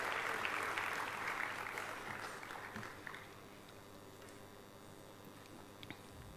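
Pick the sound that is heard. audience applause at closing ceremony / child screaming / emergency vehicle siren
audience applause at closing ceremony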